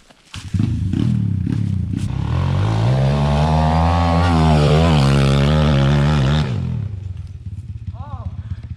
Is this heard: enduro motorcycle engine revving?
yes